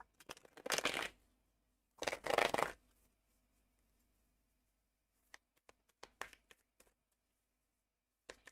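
Tarot cards being shuffled by hand in two brisk riffling bursts, followed by scattered soft taps and flicks as cards are drawn and laid down, close and alone without voices.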